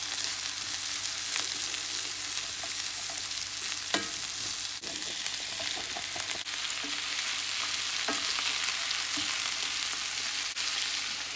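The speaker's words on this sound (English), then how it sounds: "the onions are starting to get sauteed. And I'm going to add in the red pepper and the zucchini." Onions, red pepper and zucchini saute in a pan with a constant bright sizzle, scattered pops and a few light clinks of stirring, close and steady throughout.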